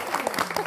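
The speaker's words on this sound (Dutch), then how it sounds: "We zeggen nog een groot applaus voor deze twee kanjers." Studio audience applauding at the close of a Dutch television entertainment show, a short steady wash of clapping at moderate level with some voices mixed in.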